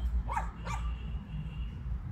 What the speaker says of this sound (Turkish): Kral da Anadolu çoban köpeğimiz.